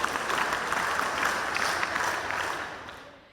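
Applause from a school assembly at the inauguration of a computer and robotics lab, steady dense clapping from a gathered crowd that fades out toward the end.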